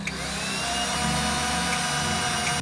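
A power drill whines steadily for a couple of seconds, boring into wood, a continuous motor drone with no pauses, close by and without speech.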